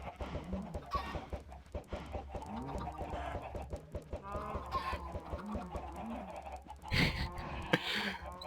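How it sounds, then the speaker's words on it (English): Chickens cluck repeatedly in a block-building video game, with short, scattered clucks and squawks at a moderate level throughout. A sharper burst of noise comes near the end. "have some more chickens."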